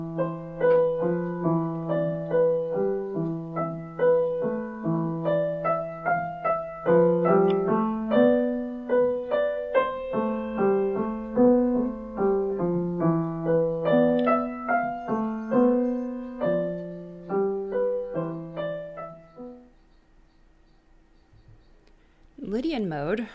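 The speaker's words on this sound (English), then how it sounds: "Here's a piece that Bartok wrote from his Microcosmos collection called In Phrygian Mode." Bartók's In Phrygian Mode from Mikrokosmos played on piano, a steady flowing melody of clear struck notes for most of the clip, fading out before a brief voice at the very end.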